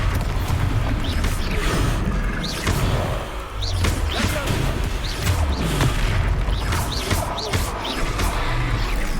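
Explosive Confringo spell blasts in Hogwarts Legacy, loud repeated booms, crashes and whooshing impacts during a fight, filling the whole stretch with dense clattering combat noise.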